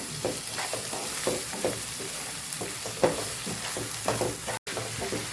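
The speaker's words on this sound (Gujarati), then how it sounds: "એને સાતળવાનું છે તેલ પણ મસ્ત એવું છૂટું પડી ગયું છે" Garlic, ginger and fresh turmeric sauté in oil with salt, a close, steady sizzle broken by repeated stirring scrapes in an uneven rhythm, with a brief dropout near the end.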